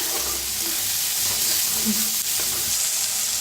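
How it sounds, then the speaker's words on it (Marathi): Tomatoes roast with onions in hot oil for a dingri mushroom curry, producing a loud, steady sizzle with soft stirring scrapes and no voices. "टमाटरला बी भाजून घेऊया. छान दोन्ही मिळून भाजायचं."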